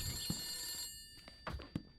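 A telephone bell rings indoors in a short, steady burst that cuts off abruptly, followed by a few scattered clicks and thumps, with no talking.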